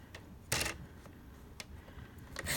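Craft-coloured cardstock being cut on a paper trimmer, with a short sharp slicing rasp, a few faint clicks and taps, then a second slicing sound near the end; quiet, close and without voices.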